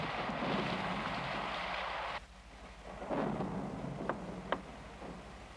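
A thunderstorm with lightning rumbles with heavy rain hissing steadily, the roar cutting out briefly before rolling thunder and a couple of sharp cracks return.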